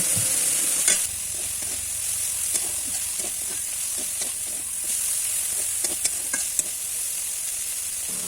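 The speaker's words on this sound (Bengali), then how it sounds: "চিংড়ি মাছের থেকে যে জলটা বেরোচ্ছে এই জলটা শুকিয়ে যাওয়া পর্যন্ত নাড়াচাড়া করব।" Prawns stir-frying in a pan until their released water cooks off, giving a continuous bright sizzle with scattered scraping stirring strokes throughout, close and steady with no talking.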